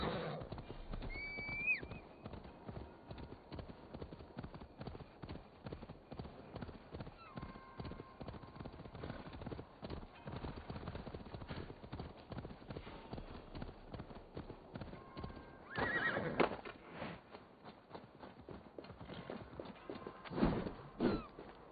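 A horse in Assassin's Creed Valhalla plods along with steady clip-clop hoofbeats, snorting and giving a couple of whinnies near the middle and end, heard alone against quiet game ambience.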